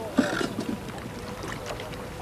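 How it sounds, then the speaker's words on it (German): Fishing boat loaded with clay pots heading out to sea off Kerkennah, Tunisia; soft water and hull noise with wind, a few brief knocks early on, low and steady throughout. "Wir beladen das Boot mit den Tonkrügen und fahren aufs Meer hinaus."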